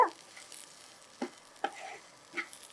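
Amla (Indian gooseberry) mixture for a chutney being stirred in a pan, with a few soft scraping stir strokes and a faint sizzle under a quiet background.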